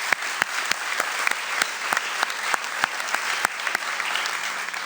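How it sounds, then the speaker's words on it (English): An audience at a sports awards event applauds steadily, with many close and distant hand claps blending into a continuous, even wash. "Let's give those 2 a round of applause."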